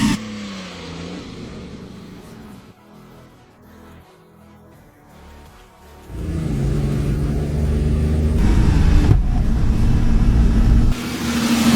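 Restored Ferrari 250 GT engine on a driving test, a revving rise at the start, then a quieter stretch before a loud, sustained low rumble of acceleration builds and holds.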